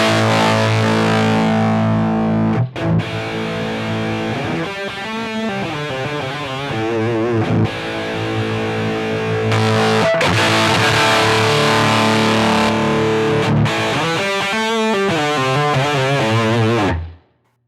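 Heavily distorted electric guitar played through a Line 6 Helix ADT doubler set to full saturation, thick sustained chords and riffs with a wide, doubled tone, loud and continuous before stopping abruptly at the end.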